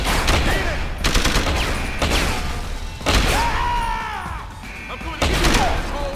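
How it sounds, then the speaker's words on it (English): Rapid gunfire bursts in the video game Deus Ex: Human Revolution, loud repeated volleys of shots and impacts spread across several seconds, with shouting voices mixed in. "Fucking gunshots!"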